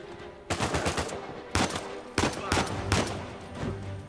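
Bursts of automatic gunfire from the video game Uncharted 4, several rapid volleys in quick succession at close range with short gaps between them.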